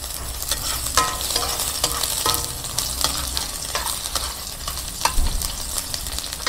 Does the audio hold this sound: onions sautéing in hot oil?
yes